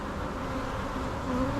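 Honeybee attendants working at the candy plug of a queen cage during a walk-away split make a steady, close insect buzz and hum throughout, swelling slightly toward the end.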